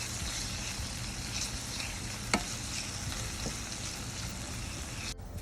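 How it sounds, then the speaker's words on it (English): Ackee and saltfish with sweet pepper sizzles steadily in a hot pan, a constant crackling hiss close by, with one brief sharp clink partway through. "It's frying up already."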